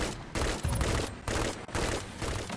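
Pulse rifle fire in a first-person shooter video game comes in loud bursts of rapid shots separated by brief pauses.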